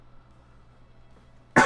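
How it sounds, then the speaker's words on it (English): A single short cough bursts out at the very end, loud and close, after a stretch of quiet room hum. "I take a drink because I coughed."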